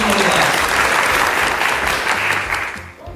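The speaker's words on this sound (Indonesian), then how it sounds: "Berikan tepuk tangan yang paling meriah." A crowd at an emcee school event in Surabaya bursts into loud, dense applause that holds steady for about three seconds before tapering off near the end.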